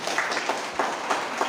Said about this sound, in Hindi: ये मैडम के लिए ताली बजाइए।